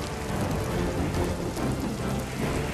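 Heavy downpour in the rural villages around Savarkundla, a dense, steady hiss of rain pounding surfaces that stays loud and unbroken throughout with no voices.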